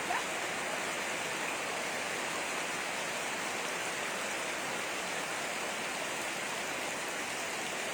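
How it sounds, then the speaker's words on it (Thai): Steady, dense rain hisses continuously, an even wash of falling water with no breaks or voices. "เปียกฝนสักนิดนึงคืออดใจไม่ได้ เสียงมันยั่วยวนเหลือเกิน"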